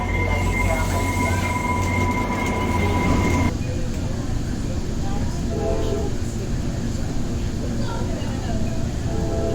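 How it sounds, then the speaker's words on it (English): A high-speed train approaches a station, its low, steady rumble filling the whole stretch and holding level. A sustained tone runs through the first few seconds and then stops. No one speaks. "Warning, high speed train approaching."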